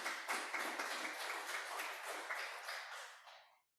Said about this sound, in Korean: 잘 다녀오시라고 한번 박수 드리겠습니다